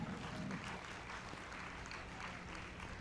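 Audience applause at a live stage show, a steady wash of many hands clapping together at low, even volume throughout.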